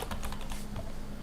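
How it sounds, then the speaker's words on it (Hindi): A password typed on a computer keyboard, with a quick, even patter of close keystrokes in a short burst. "यहाँ पे मैं अपना पासवर्ड डाल देता हूँ"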